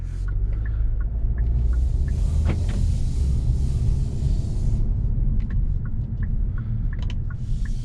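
A 2021 Kia K5 EX on the road, with a steady low rumble of engine and tire noise from inside the cabin and faint clicks and ticks scattered over it.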